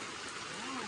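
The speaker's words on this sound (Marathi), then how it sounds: "पाणी पडतंय।" Rain falls steadily around a group sheltering on a trip near Lonavala and Ekvira Temple, a dense, even hiss with no letup and faint voices beneath it.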